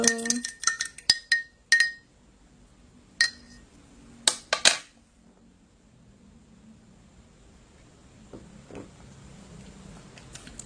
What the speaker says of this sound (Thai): ใส่น้ำไป เสร็จก็จะเป็นอย่างนี้ แล้วก็คนนิดนึง